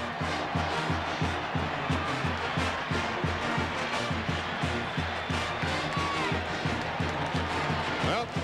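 Thousands of Auburn Tiger fans at a 1999 college football game against LSU roar and cheer in a packed stadium. The crowd noise is loud and continuous, with a commentator talking over it.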